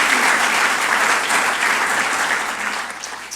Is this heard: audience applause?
yes